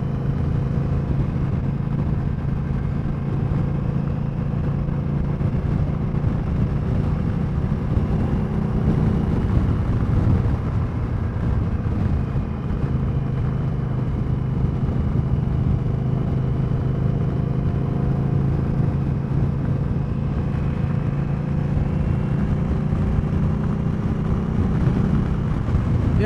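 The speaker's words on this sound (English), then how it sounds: "Oh, I love the sound of this bike." A 2020 Indian Scout motorcycle on a demo-day test ride, its engine droning steadily at cruising speed with a low rumble mixed into constant road and wind noise, heard from the rider's position.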